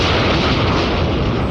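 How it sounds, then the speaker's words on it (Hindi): A loud, sustained explosive roar with deep rumbling that fills the whole moment without pause, heavy and close, in an animated series. "ये कैसा धमाका है?"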